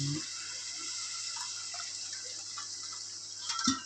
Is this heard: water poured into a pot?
yes